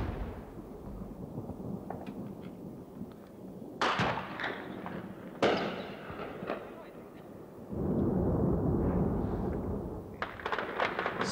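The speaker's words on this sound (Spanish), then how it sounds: "Siguen las explosiones en el aeropuerto" Repeated distant explosions at an airport under air attack boom and crackle at irregular intervals over a low rumbling background, with a longer roaring burst near the end.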